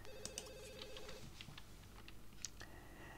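A telephone rings in The Sims 2, with a repeated electronic ringing pattern for about a second, then short chirpy game sounds over a steady game background.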